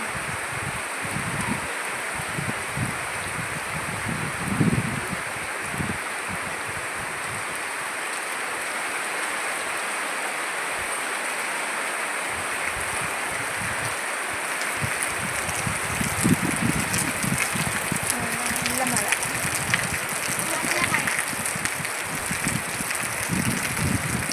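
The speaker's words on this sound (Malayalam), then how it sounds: "ആ മഴയൊക്കെ ഒന്നിച്ചിട്ട് ഒരു കാറ്റും മഴയൊക്കെ വരുന്നത്" Heavy rain and strong wind in Palakkad, Kerala, make a dense, continuous wash of rainfall mixed with gusty rustling of leaves and trees that swells and fades over nearly half a minute.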